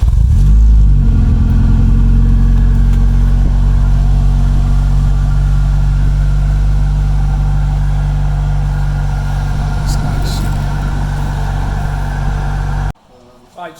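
Honda Civic with a 2.5-inch exhaust starting up: the engine catches and settles into a deep, loud, throbbing idle close by, rumbling steadily before cutting off abruptly near the end, with people talking over it.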